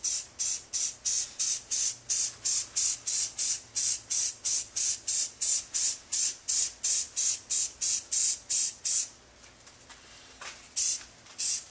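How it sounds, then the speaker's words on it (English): Orange spray paint mists onto meat hooks for a rusted look in a rapid train of short, even hissing bursts from a nearby can, then pauses and gives a few final sprays. "Now I can mist with the orange, which gives a good rusted look."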